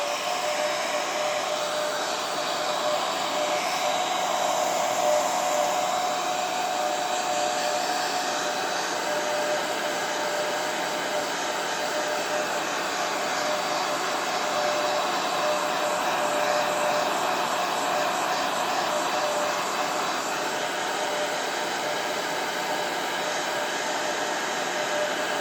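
A heat tool set to low blows steadily over freshly poured acrylic paint, giving a continuous airy whoosh with a thin whine that stays even and close for the whole stretch, with no talking.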